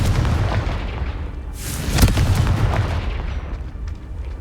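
An explosive Confringo spell in the Hogwarts Legacy video game bursts in a loud boom with a sharp crackling blast, over a rumbling low background, with no speech.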